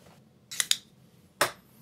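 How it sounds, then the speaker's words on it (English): Scissors snipping rubber bands off toy diorama packaging: two quick close cuts in succession, a short pause, then one more crisp snip, each sharp and bright against a quiet room. "They are rubber bands. You can cut them. Probably scissors is better than using a box opener."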